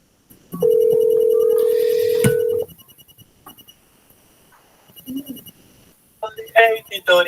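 Telephone ringing with a single steady electronic tone lasting about two seconds, loud and close, followed by quiet rustling and a voice speaking near the end.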